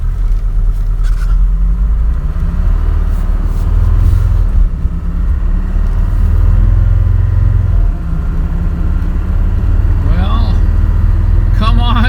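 A non-turbo Mercedes 300D diesel car runs with a loud, steady low engine rumble that shifts in tone as it accelerates. A voice comes in briefly near the end.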